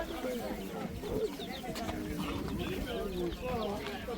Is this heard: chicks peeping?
yes